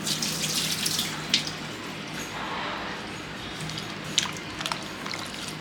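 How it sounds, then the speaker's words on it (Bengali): Dried fish being rinsed in hot water in a kitchen, a steady running-water wash close by with occasional splashes and handling knocks. "এটা ধুয়ে দিই, নোংরা আছে এটা মধ্যে।"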